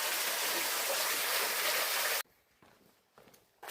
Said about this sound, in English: Continuing past the giant waterfall / non-waterfall.